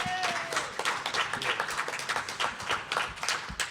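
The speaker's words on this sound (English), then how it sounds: "Give him a round of applause." Scattered clapping from a small audience at a live Steel City Slamfest show at Tekko 2025, uneven and fairly quiet, with individual claps standing out and faint murmuring beneath.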